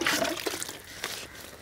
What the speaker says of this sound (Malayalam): കമ്പ് വെള്ളത്തിൽ നനച്ചെടുത്തതിന് ശേഷം